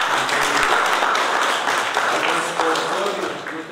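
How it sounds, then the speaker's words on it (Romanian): Audience applause at a book launch, a dense steady clapping of many hands that carries on for several seconds before easing slightly toward the end. "Să le aplaudăm și pe ele."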